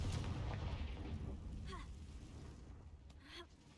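Confringo blasting spell explosions in Hogwarts Legacy, a heavy booming burst at the start with rumbling low-end decay, then smaller crackling magical zaps and whooshes trailing off, game music faintly underneath.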